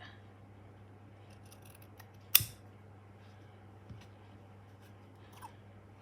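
Scissors cut through paper for a tulip craft, with one sharp, close snip followed by two fainter snips in a quiet room, and no talk.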